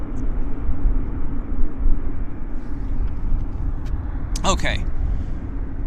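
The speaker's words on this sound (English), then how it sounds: "Well, we've got a BizJet first, actually." A business jet departs the north runway at Vancouver Airport with a steady, rumbling engine roar. A voice talks over it near the start and a brief clatter sounds near the end.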